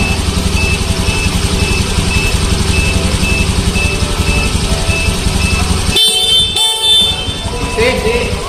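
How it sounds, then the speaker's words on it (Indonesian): A car horn sounds during a battery tester load test, a sustained honk heard over a steady engine-like drone, with brief gaps and changes near the end. "kita nyalakan misalkan klakson"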